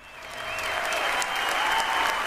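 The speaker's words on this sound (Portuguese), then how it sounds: "Ela foi aplaudida de pé, até pela Glenn Close" Standing ovation from the audience at the Oscars for a speech on equal pay, swelling into a broad, steady roar of clapping that holds to the end.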